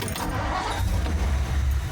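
A classic Ford Thunderbird engine cranks and catches, settling into a steady low rumble close by, with a faint jangle of keys at the start.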